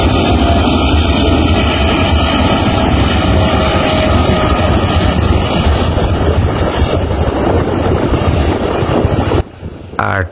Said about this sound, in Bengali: এই বিমানের টেক অফটি দেখুন আর শব্দটা কি শুনুন